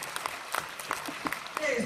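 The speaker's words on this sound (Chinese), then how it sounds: "大家再鼓掌，再强烈一点" Scattered, sparse claps from an audience at Yu Suzuki's Shenmue 3 prototype reveal presentation, sounding as a handful of separate hand claps rather than full applause. A faint voice sits underneath.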